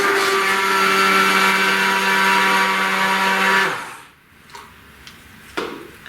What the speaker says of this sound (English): then use my handheld blender again